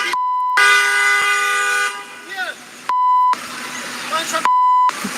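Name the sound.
censor beeps over speech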